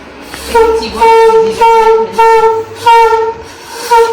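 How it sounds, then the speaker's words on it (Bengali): A conch shell is blown at home during an evening Bhai Phonta celebration, giving a series of about six loud, sustained, brassy horn-like blasts separated by brief pauses. "মা শাক বাজাচ্ছে"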